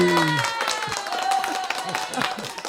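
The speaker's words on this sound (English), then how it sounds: "where are the hand claps coming from?" Audience hand claps at a book concert ring out amid crowd noise and voices, with a sustained musical tone running beneath the scattered clapping.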